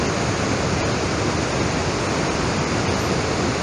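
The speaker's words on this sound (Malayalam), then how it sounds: "വാഴച്ചാൽ വെള്ളച്ചാട്ടം" Vazhachal waterfall in Kerala pours over rocks, a dense, steady roar of cascading water that fills the whole stretch evenly and loudly, with no voices over it.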